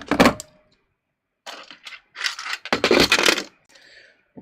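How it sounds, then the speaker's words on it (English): A straight stitch presser foot comes off a sewing machine with close, sharp metallic clicks, scrapes and clunks in short bursts separated by quiet gaps. "I'm just going to take off this straight stitch foot and I'm going to put on my my shank and my zipper foot"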